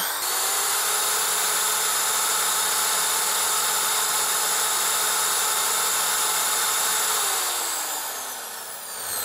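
A Dongcheng electric drill, a budget beginner model, spinning at no load around 3,100 RPM, a steady high whine with strong motor harmonics held for several seconds, then dropping in pitch as it winds down, close and alone.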